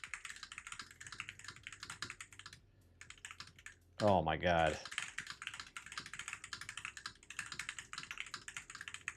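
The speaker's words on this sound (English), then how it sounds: "I show you guys the keyboard I'm using today, and then you can watch me with this little typing test." Rapid typing on a computer keyboard during a typing test, a steady dense patter of key clicks throughout with a short pause, interrupted briefly by a loud spoken exclamation.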